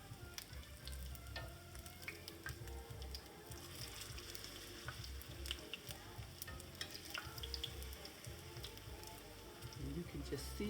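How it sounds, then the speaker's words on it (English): Battered cauliflower wings fry in hot oil, a steady close bubbling sizzle with scattered pops and crackles throughout, loud and continuous. "you can just see those frying and browning real pretty"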